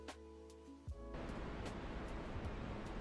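Niagara Falls played back from a video: after a brief tonal sound, a steady, loud broadband roar of falling water cuts in and continues unbroken.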